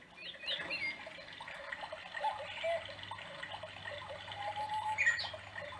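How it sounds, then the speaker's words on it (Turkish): Soft electronic birdsong chirps from a baby cradle over a gentle trickling water sound, quiet and continuous, with a faint low hum beneath. "Kuş su sesi, doğal sesi."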